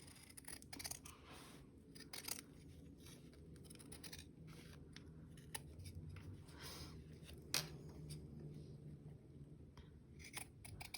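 Scissors snipping off excess fabric beside a zipper while sewing a pencil case: quiet, close, scattered crisp cuts and scraping over a low background hum, with no talking.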